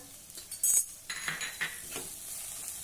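Slices of snake gourd tipped into a pan and stirred for a traditional Maharashtrian dish, with a clink of a metal spoon against the pan, soft scraping and a faint sizzle, quiet and brief.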